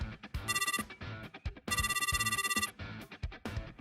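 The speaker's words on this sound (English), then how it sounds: "my phone rang" A telephone rings in two long bright bursts separated by a short gap, over a steady low rhythmic backing.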